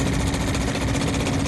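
Small outboard motor on the back of a sailing dinghy runs steadily with a buzzing, rattling drone, close and continuous without a break.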